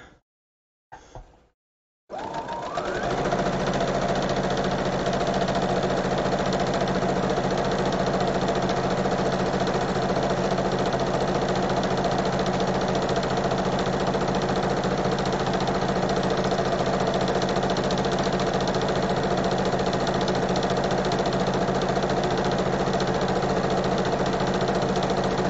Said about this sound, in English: we're going to sew that edge down